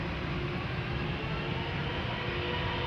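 A KLM Boeing 777-300ER spools up its jet engines for takeoff at Amsterdam Schiphol, producing a steady, dense broadband roar heard from a distance that holds evenly throughout with no voices.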